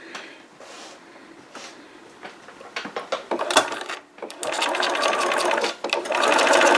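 A sewing machine stitches forward with the presser foot down, a fast mechanical chatter that starts and stops in short bursts before running on steadily, close and fairly quiet.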